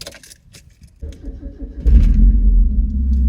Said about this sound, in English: One more rev? One more?